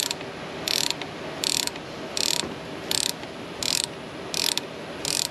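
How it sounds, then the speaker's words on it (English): A threaded puller slowly forcing the crank pulley off a Toyota 2UZFE engine, giving seven evenly spaced ratcheting bursts about every 0.6 seconds, close and fairly loud, with a low mechanical hum between them. "it's slowly and surely taking our crank pulley off"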